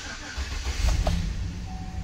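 A 2007 GMC Yukon with a newly installed alternator cranks and starts, a low engine rumble swelling through the middle and settling into a steady idle, fairly close and without talk.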